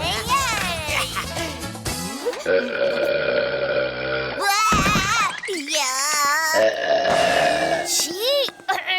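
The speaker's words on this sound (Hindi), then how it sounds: "ऐसे गंदे गंदे डकार मार रहा है" Loud, exaggerated cartoon burps ring out repeatedly in an animated kids' show, long croaking belches mixed with quick character voices and musical effects, all close and prominent.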